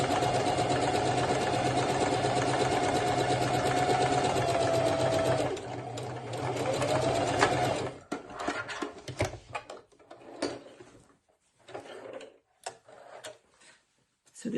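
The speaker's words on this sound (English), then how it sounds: "After you have sewn your 2 pieces together, you can trim the seam allowance down." A sewing machine stitches a cloth face mask seam in white thread, a steady loud whirring run for several seconds, then short, broken bursts of stitching separated by pauses.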